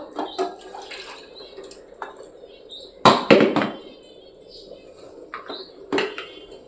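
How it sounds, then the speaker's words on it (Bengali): A Scotch-Brite pad scrubs a dry, still-warm pot in a home kitchen, giving short, scratchy rubbing strokes and a couple of sharp knocks, close and fairly loud, with a voice speaking in the background. "একটু এরকম স্কচব্রাইট নিয়ে জাস্ট এরকম ডলে দেব, শুধু, কোনো লিকুইডদেবো না"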